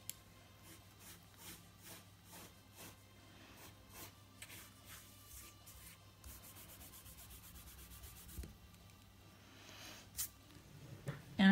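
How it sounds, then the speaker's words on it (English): A colored pencil rubbed against a sandpaper strip to sharpen its point, giving soft, repeated scratchy strokes in a steady rhythm, fairly quiet and close, with no talk over it. "you sharpen and then you can take the sandpaper off to get a nice sharp"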